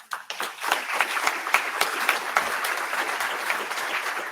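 An audience claps after a bioinformatics conference talk on open-source software for precision medicine, with sharp individual claps building quickly into steady, moderately loud applause that keeps going to the end.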